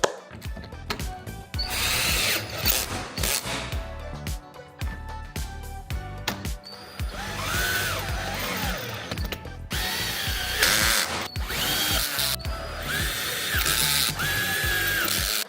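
A power drill or driver fastens the corner bolts on a roof lantern, with repeated short bursts of buzzing and ratcheting clicks separated by brief pauses, close and fairly loud.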